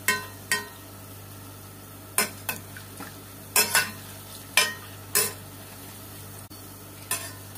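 Small balls of dessert dough fry in oil in a small pot, a low steady sizzle broken by sharp clinks of a utensil stirring against the pot, about a dozen irregular taps.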